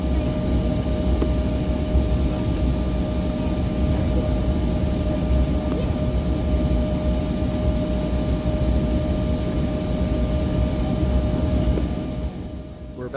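Steady low roar inside an Alaska Airlines airplane cabin sitting at SNA before takeoff, with a constant engine and ventilation hum, a faint whine and a few small clicks, easing slightly at the end.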